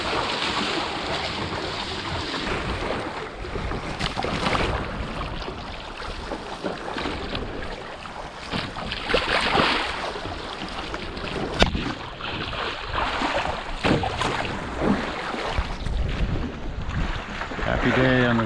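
A trimaran under sail on the Sea of Cortez, with heavy wind buffeting the microphone and a constant rush of water along the hulls, loud and close throughout, with occasional thumps and creaks and no talk.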